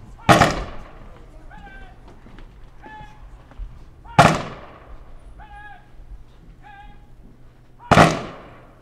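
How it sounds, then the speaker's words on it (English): Three sharp, loud rifle volleys crack out about four seconds apart at a VFW Purple Heart plaque ceremony in Westford, with a voice calling out faintly between the shots. "there will be a rifle salute"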